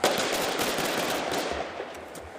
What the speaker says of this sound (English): Gunshots fired outside a home near 16th and Chestnut Streets in Oakland 9:30 last night.